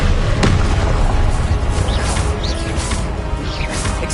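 Confringo blasting spell from Hogwarts Legacy bursting in a loud, dense explosion with a sharp crack near the start, followed by a rumbling, crackling roar that stays heavy throughout.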